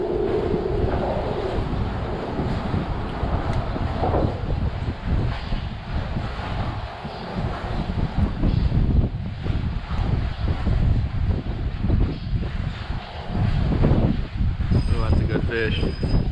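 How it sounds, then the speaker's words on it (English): Wind gusts across open water around a fishing kayak near bridges on a summer outing, making rough buffeting rumbles and a low hiss throughout. Faint lapping water and occasional voice sounds sit underneath. "I don't want to fight this wind."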